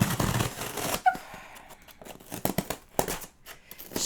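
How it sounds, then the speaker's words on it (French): Scissors work through a cardboard box, giving quiet irregular snips, scrapes and crinkles up close, with a burst of rustling at the start and scattered sharp cuts afterward. "j'ai ma bonne vieille paire de ciseaux et on va ouvrir ça ensemble"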